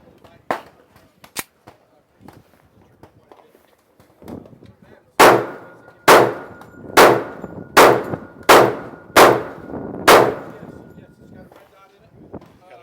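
A Smith & Wesson Performance Center 1911 pistol fires Federal ammunition at a target range, about seven sharp, loud shots in a fairly quick string, with a few fainter clicks and handling sounds before them.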